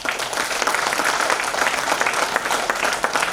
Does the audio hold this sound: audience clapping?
yes